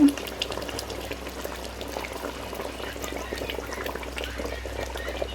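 Fish curry seasoned with garam masala bubbles and sizzles steadily in a pan while being stirred, a continuous close simmering hiss with soft liquid textures throughout.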